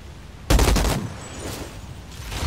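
A heavy new gun fires in the Outriders shooter game with a loud burst that starts abruptly and rumbles for about half a second, then rolls into booming echoes and a second, softer volley.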